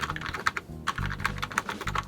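Typing on an Apple ADB keyboard with Alps switches and Alps keycaps, a fast irregular run of crisp clacky keystrokes, close and alone.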